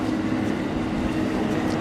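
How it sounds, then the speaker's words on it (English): A green Yamanote line train rolls past in Tokyo, a steady, broad rumble and rush of wheels and air that holds level throughout with no voices. "see that train there, that green one? That's the one I normally catch. The Yamanote line, the main circular line of Tokyo."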